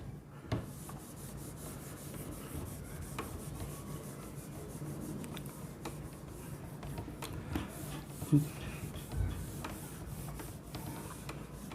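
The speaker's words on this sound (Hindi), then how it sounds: "चलिए इसको रब करता हूँ।" Something is rubbed out during a maths lesson, giving a soft, continuous scraping and rubbing that stays faint and steady throughout, with a few small knocks.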